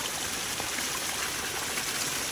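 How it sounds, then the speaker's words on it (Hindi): A small mountain waterfall spills from above onto the rugged footpath between Gangotri and Kedarnath, giving a steady, dense rushing hiss of water with no break and no voices. "एक और झरना"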